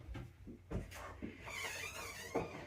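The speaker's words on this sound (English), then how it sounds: "squeaky cupboard." A squeaky kitchen cupboard door creaks open with a drawn-out, wavering squeal, preceded by a few soft knocks and clatters during home cooking.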